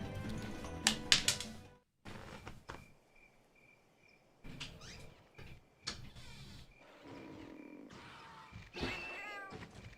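A cat meows several times in short separate calls at close range, quiet overall, with gaps of near silence and faint clicks between the cries.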